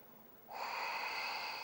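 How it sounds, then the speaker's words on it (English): A single long ujjayi yoga breath drawn in through the nose begins after a short silence, a smooth hissing, slightly throaty rush held close to the microphone. "with Ujjayi breathing, it's an inhale through the nose"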